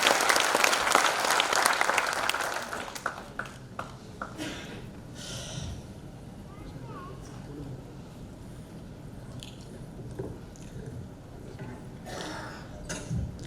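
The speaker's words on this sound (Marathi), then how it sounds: "आपल्या सगळ्यांच्या अगदी हात उंचावून टाळ्या देऊन आपण त्यांना एक कडक सलामी देऊ" Audience applause at an education award ceremony, dense and loud at the start, then thinning into scattered claps and fading under faint background voices.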